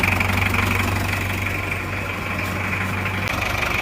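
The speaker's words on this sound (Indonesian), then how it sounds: "ini mesinnya sudah hidupnya sudah rata ya, enak." A Panther 2.3 diesel engine idling after repair of a cracked piston and broken rings, running with a steady, even low rumble and faint knock, close and continuous without talk.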